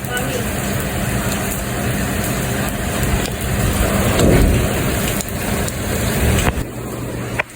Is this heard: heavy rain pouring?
yes